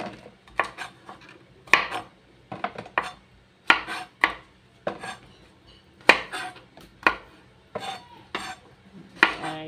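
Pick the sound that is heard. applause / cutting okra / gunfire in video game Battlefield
cutting okra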